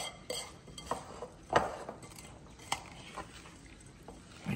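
Oat mixture with corn syrup stirred with a utensil in a bowl, giving soft irregular scrapes and a few sharp clinks against the bowl, close and fairly quiet with no talking.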